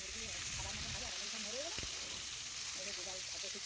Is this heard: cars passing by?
no